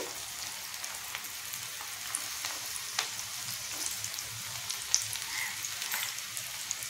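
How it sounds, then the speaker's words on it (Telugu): Onion and cashew pakodi frying in hot oil over a medium flame, a continuous soft crackling sizzle with scattered small pops, close and steady with no talking. "ఆయిల్ కాగింది, పకోడీ వేసేసుకుందాం."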